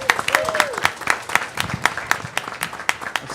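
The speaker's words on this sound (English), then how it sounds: "Let's give him a big round of applause." Audience at a school board meeting giving a round of applause, scattered distinct claps from a modest crowd, fairly close, with a voice speaking briefly near the start.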